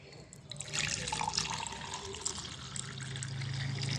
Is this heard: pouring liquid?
yes